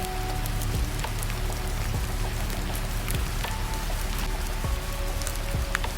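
Rain outside a hotel window, a continuous close patter of drops striking a surface, steady throughout with scattered sharper taps and no talking.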